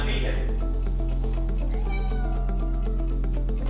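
Pet cat meowing repeatedly and insistently at feeding time indoors, close and loud, over a steady background hum.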